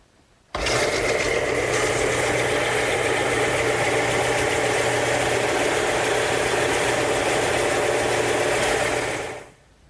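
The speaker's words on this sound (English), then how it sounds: "But I'm going to use my stationary belt sander." A stationary belt sander runs steadily and loudly for about nine seconds while a wooden table leg is held vertically against the belt to taper it. It starts abruptly, stays at an even drone throughout and cuts off near the end.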